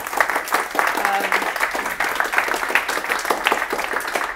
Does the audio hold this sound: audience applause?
yes